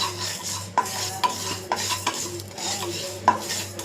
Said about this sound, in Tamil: இதை நல்லா வறுத்து விட்டுருவோம்.